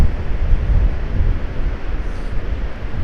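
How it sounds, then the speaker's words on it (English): Steady wind buffets the microphone on the beach at St Michael's Mount, a loud, continuous low rush with gusting swells and likely surf mixed in, with no voices. "The wind is not quite as good as expected"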